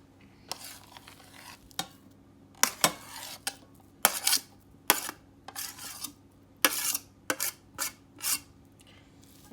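Kitchri with minced meat and potatoes stirred in a pot: repeated loud scraping and clanking strokes of a utensil against metal, coming in irregular bursts with short quiet gaps between.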